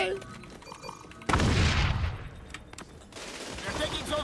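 A flashbang grenade bursts in XDefiant, a sudden loud blast that cuts in after a quieter stretch and decays into ringing, scattered noise, with game sounds carrying on afterward.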